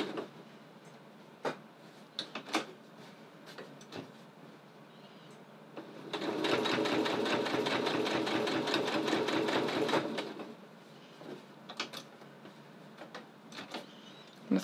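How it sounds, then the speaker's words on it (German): A sewing machine stitches a straight seam on a visible zipper in one steady, rapid, even burst of about four seconds, with soft clicks and fabric handling before and after. "Und nähe jetzt hier eine gerade Naht herunter."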